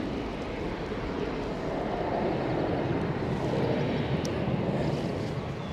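An EasyJet airliner at Edinburgh Airport on a windy day gives off a steady, broad engine roar that holds throughout, blended with gusty wind noise.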